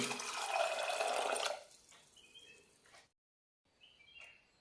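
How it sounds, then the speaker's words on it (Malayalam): Water is poured over soaked chickpeas in a pot for boiling, a loud steady gushing pour for about a second and a half, followed by faint drips and small kitchen clinks. "കടല വേവാനുള്ള വെള്ളം കൂടി ഒഴിക്കാം"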